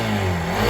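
A Hero Xpulse 200 BS6 motorcycle engine runs loud and close in a brief, steady burst with a rising mechanical drone and no voices.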